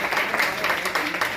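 An audience at a poem recitation competition claps, a short burst of dense applause with a voice speaking over it.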